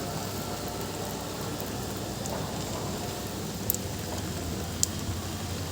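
Steady rain falls during an outdoor Hindu worship in the monsoon season, a dense even hiss with a few sharper drop taps, heard alone without voices.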